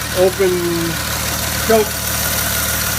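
A 1932 Oldsmobile engine idles steadily with the choke open, a low continuous rumble with faint knocking texture, while someone speaks briefly over it near the start and again partway through.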